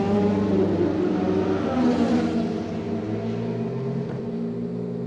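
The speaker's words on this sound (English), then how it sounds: "And then Wolfgang will be able to go out and do his first lap around the Cirque de la Sarthe in this Nissan ZEOD RC." A Nissan ZEOD RC race car at the Circuit de la Sarthe, Le Mans, during a 2014 test day, with a loud steady engine whir and revving that swells near the start and then holds steady as the car heads out on track.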